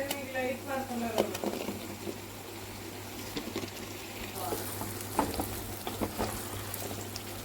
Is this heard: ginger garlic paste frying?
yes